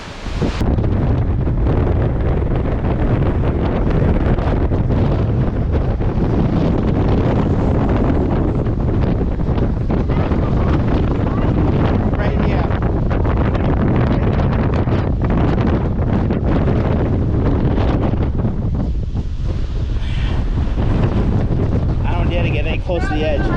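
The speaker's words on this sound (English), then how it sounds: "let's get back out in the wind" Strong wind gusts roar continuously against the microphone on a mountain in the Dix Range of the Adirondacks, loud and unbroken throughout, with faint voices partly buried beneath the buffeting.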